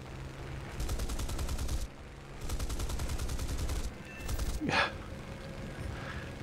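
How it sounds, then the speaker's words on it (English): An ME-410 aircraft firing in War Thunder, heard as sustained bursts of rapid machine-gun fire in separate stretches, followed by a sharp whoosh, with engine drone underneath. "it looks like that ME-410's taking shots at me"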